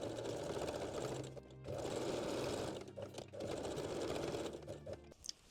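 A sewing machine backstitches the side seams of panties in fast rattling runs, pausing briefly between passes. It sounds close and fairly quiet.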